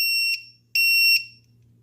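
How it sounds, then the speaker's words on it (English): Two loud, piercing electronic beeps from an FPV racing drone's lost-model alarm buzzer, each sustained about half a second, close by with a low hum underneath. "that's going to shut off the lost model alarm ejected battery buzzer"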